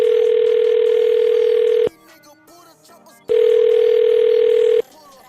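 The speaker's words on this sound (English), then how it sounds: "I'm going to dial her phone number right now." A telephone call is placed to a phone number, and two long, steady, loud ringing tones sound close up, separated by a quiet gap with faint background sound.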